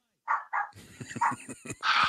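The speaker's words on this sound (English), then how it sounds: "this kid needs to go the fuck away because Zoe won't stop barking at the door" A dog barks at the door indoors with several sharp, close barks and yips in quick succession, mixed with rustling and faint speech underneath.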